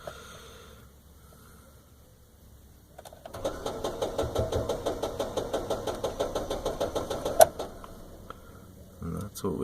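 An Isuzu i-series engine cranks during a start attempt with no start: a steady run of rhythmic starter pulses, close and fairly loud, following a few quiet seconds of near silence.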